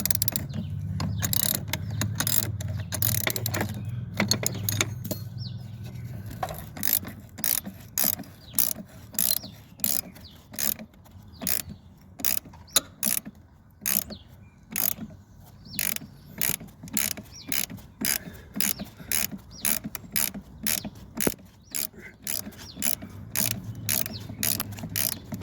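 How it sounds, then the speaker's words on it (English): Repeated ratcheting clicks of a double spanner loosening a bolt on a Centurion D6 Smart sliding gate motor, a steady metallic clatter continuing for about twenty-five seconds with a low rumble underneath. "Now there you can see the spanner is over the head of the bolt. Just gonna use a double spanner"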